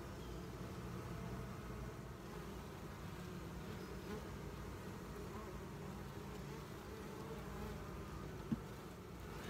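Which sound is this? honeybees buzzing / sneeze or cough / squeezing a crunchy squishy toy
honeybees buzzing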